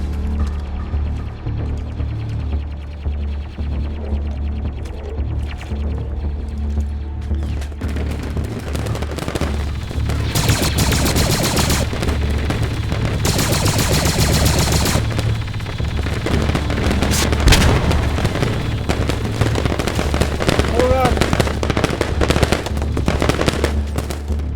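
Gunfire and explosions from the video game Star Wars Galactic Contention: sustained machine-gun bursts with booming blasts mixed in, building from a busy backdrop into louder, denser firing in the second half.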